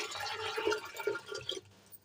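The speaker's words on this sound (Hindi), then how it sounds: "अभी डालते हैं इसमें पानी।" Water is poured into a cooking pot holding masoor lentils, a short splashing gush that rises and then tapers off to quiet within about two seconds, close to the microphone with no talking.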